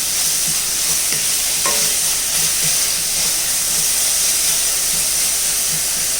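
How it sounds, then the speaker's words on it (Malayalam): Onions sautéing in a pan for egg biryani, giving a loud, steady sizzle and hiss with occasional faint stirring knocks and no talking. "ഇളക്കി നല്ലപോലെ വഴറ്റിയെടുക്കാം."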